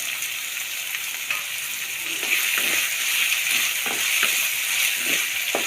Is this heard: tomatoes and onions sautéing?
yes